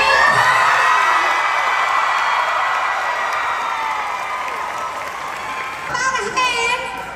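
Crowd at the Dollywood music festival applauding and cheering a performer's entrance, loud continuous clapping with whoops and shouts that fades slightly before a renewed burst of cheering.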